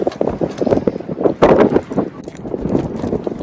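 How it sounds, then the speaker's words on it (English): Gusty wind buffets the microphone in uneven, rushing bursts, loudest around the middle, with no talking, out on the Trans Catalina Trail in cold weather. "Gotten really windy and cold."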